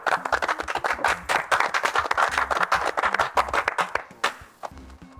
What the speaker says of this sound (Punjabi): 3 ਮਿੰਟ ਤਾੜੀਆਂ ਮਾਰ ਲੀਆਂ ਤੁਸੀਂ